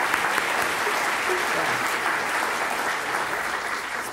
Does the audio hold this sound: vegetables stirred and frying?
no